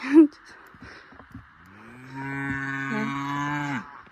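A cow gives one long, low, steady moo of about two seconds at close range during milking, after a brief short call and a few soft knocks.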